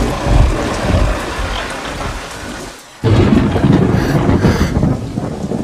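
A loud thunderstorm with heavy rain, thunder rumbling low through a steady downpour; after a brief lull the rain and rumble return at full strength.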